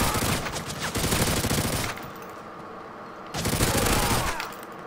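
Rapid automatic fire from a G18 submachine gun in Modern Warfare 3, two loud sustained bursts separated by a quieter pause with distant battle ambience.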